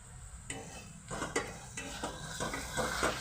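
Sliced onions and dried red chillies frying in a pan for a katla fish stew, with a soft sizzle under repeated metal spatula scrapes and clinks against the pan, close and moderately loud.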